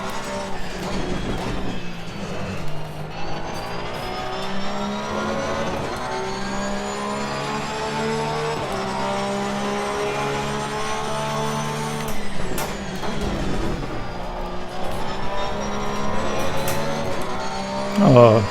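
A race car in an Xbox racing game accelerates and shifts through gears, its engine whining steadily at moderate volume with a rising pitch and occasional gear changes, heard alone without talk.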